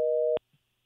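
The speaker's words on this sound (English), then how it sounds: "somehow we have a dial tone" Telephone tone on a radio show's call-in line: a steady pure beep that cuts off, a short silence, then the tone starting again, close and clean.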